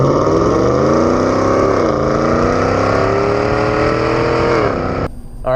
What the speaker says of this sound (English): We got the Corsa exhaust on already, and it's bald eagles all day long